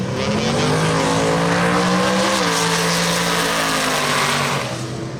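Race car tires squealing at a street race pit area, a loud sustained high-pitched screech with engine roar underneath, shifting pitch midway and running continuously for several seconds without speech.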